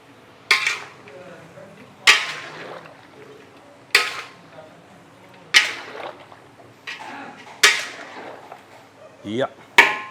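A metal utensil scrapes and clanks against a pan while chicken and onion are stirred in butter sauce for a large batch, giving sharp, evenly spaced strokes about every one and a half seconds with quiet sizzling between.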